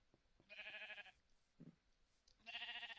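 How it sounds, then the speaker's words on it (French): A pink sheep in a Minecraft-style video game bleats twice, two clear nasal calls separated by a short pause, with a faint thump between them. "Oh, un mouton rose."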